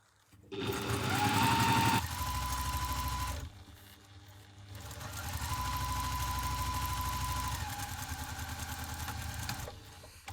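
A sewing machine stitches the lining of a small crossbody bag in two steady runs of rapid mechanical whirring, separated by a short pause, loud and close with no talking.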